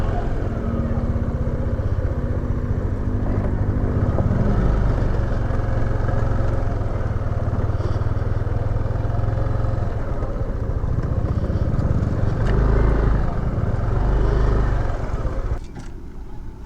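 A motorcycle engine idles steadily and close up while the rider pulls in to park on a ride to the Monte Maria Shrine, with a low rumble that continues throughout and brief voices over it.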